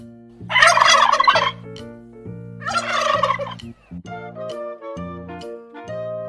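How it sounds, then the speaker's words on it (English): Turkey gobbling loudly close by, two rattling gobble bursts separated by lower clucking and yelping notes, alone with no talk. "Turkey."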